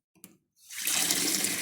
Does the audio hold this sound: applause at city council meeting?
no